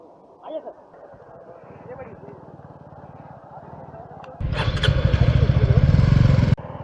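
A motorcycle on a Suzuki off-road track event starts with a quiet engine rumble under a voice, then jumps into a loud, close, rough revving roar before cutting back down.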